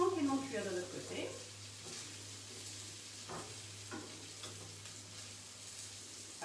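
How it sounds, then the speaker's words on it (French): Vegetable patties frying in a pan, a soft, steady sizzle with occasional clinks and scrapes, while a voice speaks briefly at the start over the cooking. "Donc on va les laisser tranquillement cuire de l'autre côté."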